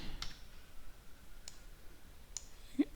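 Mouse clicks while tracing irrigation canals in mapping software, a few sharp isolated clicks spaced over a quiet background.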